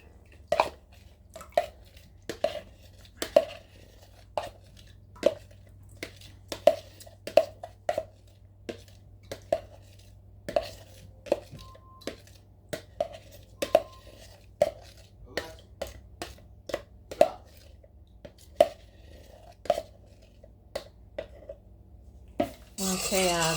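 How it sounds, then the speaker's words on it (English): A spoon or whisk clinks steadily against a bowl while oil is mixed into whipped shea butter, a quick run of sharp knocks and scrapes close by, alone against a low steady hum. "I'll mix in my oil"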